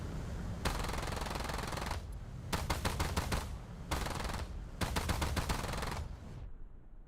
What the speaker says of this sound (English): The sound of aircraft guns have been improved.